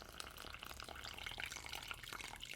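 Water pours from a measuring vessel into a bowl of flour for bread dough, a soft, continuous trickling and splashing, quiet and close, with no voices over it.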